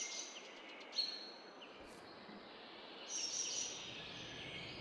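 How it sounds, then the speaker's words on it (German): Birds sing in a forest in Farming Simulator 22, scattered chirps and high trills over a soft steady insect-like ambience, fairly faint and without voices. "Gibt es ja so viele Vögel im Wald, das ist ja ganz schön viel."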